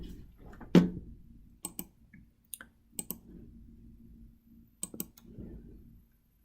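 Computer mouse clicking while drawing in CAD software, a handful of sharp, close, isolated clicks spaced irregularly, some in quick pairs, over a quiet room.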